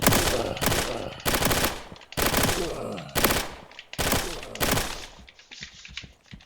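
Rapid sidearm gunfire rips through zombies in the game Reign Fall, loud dense bursts of shots in about five close strings separated by brief pauses, the last trailing off.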